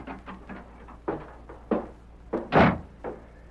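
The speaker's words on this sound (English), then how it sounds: "Red Murphy looked up in surprise at the sound of the door" A door opens in an old-time western radio drama, heard as a series of wooden thuds and knocks with one louder bump near the end, close and clear with no talking.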